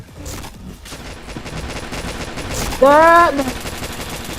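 Gunfire from a shooter video game rattles steadily under a short spoken word from a player, with a tonal in-game sound cutting in near the end.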